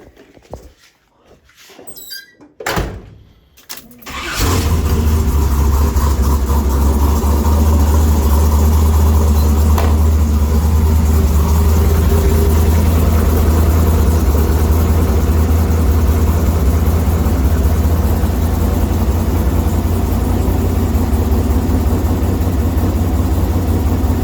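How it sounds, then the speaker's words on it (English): Project car engine, just fitted with cheap gauges and being checked for a leak, is cranked after a few seconds of small handling noises, then catches and settles into a loud, steady idle close by. "I'm going to start it again and see if it's leaking underneath the car."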